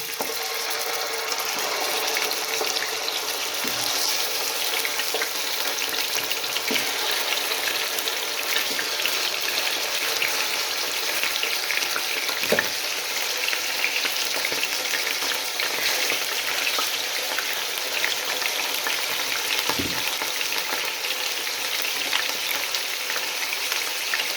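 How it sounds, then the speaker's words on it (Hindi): Scored chicken pieces frying in hot oil, a continuous dense sizzle heard up close, with occasional soft knocks of a utensil against the pan and no speech. "ऑयल गर्म होने के साथ ही हम इसमें चिकन जो कि कट लगाए थे वो ऐड कर देंगे"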